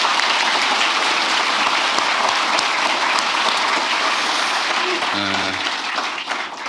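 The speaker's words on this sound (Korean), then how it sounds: "우리 동료들을 위해서 박수 한번 부탁드립니다." Audience of senior public officials at a government workshop applauding colleagues, a dense, loud, continuous clapping that holds steady for several seconds before fading slightly near the end.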